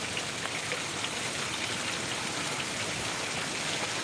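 Steady rain pouring down in Uraiyur, Trichy, a dense, even hiss of drops on surfaces that continues without a break, fairly loud and with no voices.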